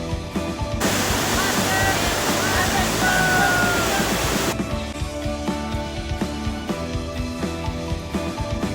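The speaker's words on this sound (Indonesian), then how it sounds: "berpetualang menuju air terjun" A rushing waterfall, reached on a hike by a university community-service group near Pardasuka village in Lampung, roars as a steady, loud wash of noise for several seconds before giving way to quieter, more tonal sound.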